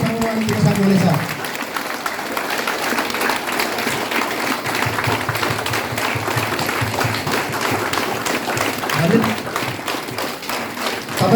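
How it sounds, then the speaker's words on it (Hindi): An audience at a stage event gives sustained continuous applause, a dense even wash of many hands clapping for over ten seconds, with a few faint voices briefly audible in the background. "एक मिनटसम्म कन्टिन्यू ताली बढाएर उहाँलाई एनर्जेटिक बनाउनुहोस्"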